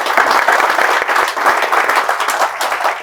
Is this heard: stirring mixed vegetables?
no